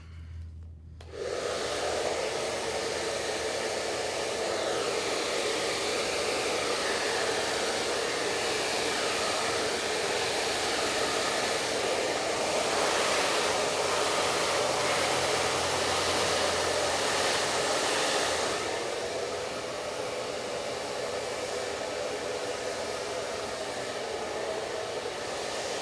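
A hair dryer runs continuously while blow-drying hair at the crown for volume, a steady close whooshing roar that starts abruptly after a second and holds for the rest, easing slightly near the end, with no voices.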